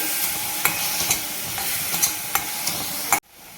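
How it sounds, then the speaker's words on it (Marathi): Mushrooms with salt being sautéed in a pan, a steady loud sizzle with repeated sharp scraping taps of a spatula stirring, ending abruptly. "परत एकदा छान हे मशरूम परतवून घ्यायचे"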